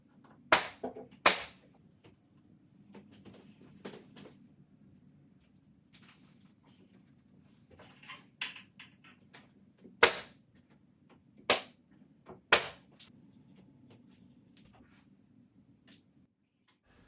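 Sharp, isolated clicks and snaps from pinning the last wall panel in place on a modern panel wall, a handful of scattered, close, crisp shots over a faint background hum.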